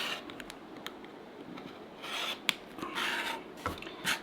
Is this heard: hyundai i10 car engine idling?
no